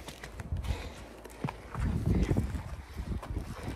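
A horse ridden alone along a forest trail, soft irregular hoof thuds on the ground with rustling and light wind, moderately close and fairly quiet.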